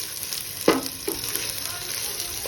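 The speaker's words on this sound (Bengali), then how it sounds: "তরকারিটা একটু মশলাটা ভাজা ভাজা হয়ে যাচ্ছে" Spice paste for an egg and potato curry fries in a pan with a steady, close sizzle and a couple of sharp stirring clatters, no voices.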